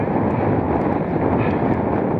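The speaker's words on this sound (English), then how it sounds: "It's a bit cold in this wind." Strong wind gusts across an exposed fell top in the Lake District around Irton Pike, roaring into the microphone as a loud, constant buffeting rumble with no other sounds.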